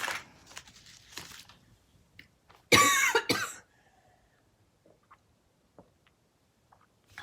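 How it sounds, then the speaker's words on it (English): A single harsh cough bursts out close by, with a couple of quick rasping follow-ups, then near silence with faint small taps. "Apologies, had to cough."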